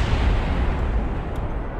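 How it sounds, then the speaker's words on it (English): An explosion in a space program video game, a continuous loud booming roar with dense low rumble sustained throughout, no voices. "Don't worry about that explosion."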